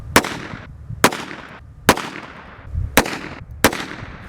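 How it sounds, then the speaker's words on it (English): Five sharp gunshots from a Taurus Judge revolver in .45/.410, fired double action in quick irregular succession, each loud crack followed by a brief decaying ring. "And there's 5 quick shots at 5 yards."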